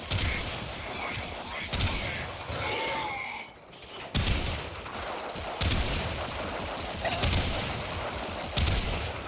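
Bursts of rapid gunfire in Warframe repeat over a dense background of combat noise, loud and near, with a short lull partway through before the shooting resumes.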